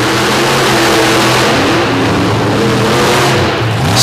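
Two heavyweight modified tractor pull machines around 13,000 pounds roar side by side at full throttle, a loud sustained engine drone with steady harmonic tones that dips and climbs slightly throughout.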